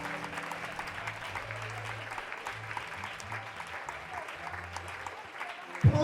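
A church congregation claps steadily, with dense, continuous applause filling the room. Music plays softly underneath.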